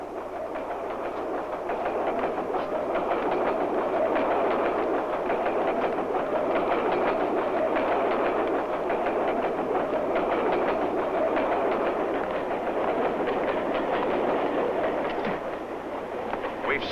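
A train rolls along its rails in a steady, loud rumble with a faint rhythmic clatter, continuous from start to finish.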